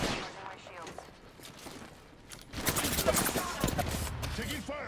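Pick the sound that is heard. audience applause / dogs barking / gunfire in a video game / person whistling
gunfire in a video game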